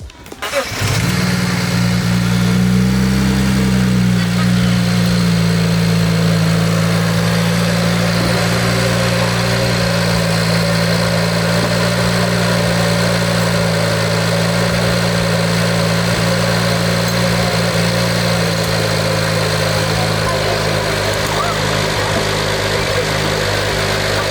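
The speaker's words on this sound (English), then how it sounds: "Time to start it up, let it warm up, see how it sounds." BMW N54 engine with a new dual-cone intake and blow-off valve fires up and settles into a steady, loud idle, a continuous low rumble held close to the microphone for the whole stretch.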